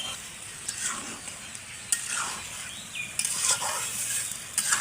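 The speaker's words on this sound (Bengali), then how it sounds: "এখন হচ্ছে মাছগুলো মশলাটা আগে ভালো করে ভুনা করে নেব।" Spice paste and rita fish being stir-fried in hot oil with tomato, a steady close sizzle broken by scraping stirs of a utensil against the pan, with no voices.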